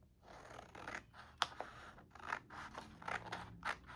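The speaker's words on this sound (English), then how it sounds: "Let's trim this." Scissors trimming collage paper, heard as a run of close, crisp snips and slicing cuts spaced irregularly, with faint paper rustle between them and no talking.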